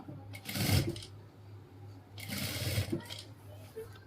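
A sewing machine stitches a ladies' coat dress or blazer in two short bursts of rapid whirring, close and moderately loud, separated by a brief pause.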